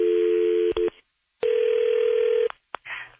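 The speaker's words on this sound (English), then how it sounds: "Okay, it's ringing." A telephone line rings during a call-in phone call on a talk show: two long, steady electronic tones separated by a pause, loud and close, with short clicks and a brief burst of noise after.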